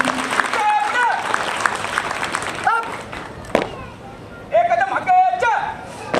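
Crowd applause at a military passing out parade after soldiers assemble weapons blindfolded; clapping from an outdoor audience runs beneath a loud announcer speaking, swelling and dipping in bursts.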